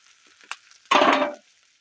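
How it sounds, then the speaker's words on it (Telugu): Egg noodles frying over a high flame give a short, bright sizzle and stir that swells for a moment and then fades, with a faint clink just before it. "ఇట్లా హెవీ మంట మీద వేయించుకుంటేనే మనకి నూడిల్స్ అనేవి బాగా వస్తుంది"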